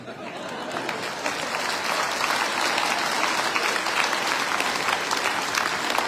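An audience at a business meeting claps steadily and loudly, the applause building slightly and holding without pause.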